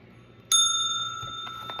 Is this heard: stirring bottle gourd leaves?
no